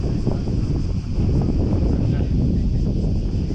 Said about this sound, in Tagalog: dito sa taas baliwala yung init kasi malakas yung hangin